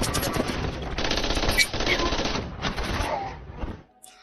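Rapid automatic gunfire crackles loud and dense in a film action scene where armed men attack police, a sustained burst of overlapping shots that cuts off abruptly at the end.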